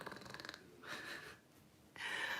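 A person on a live stream imitating snoring with their voice, giving a rapid fluttering snort followed by two drawn-out wheezy, breathy snore sounds, close and fairly soft.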